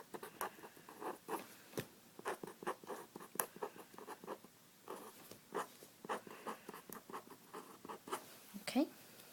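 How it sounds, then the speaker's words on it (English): Pen scratching across paper as polynomials are written out in green during a math lesson, a steady run of quick, soft strokes and taps close to the microphone, with no talking over it. "in green I'm going to go ahead and write my polynomials"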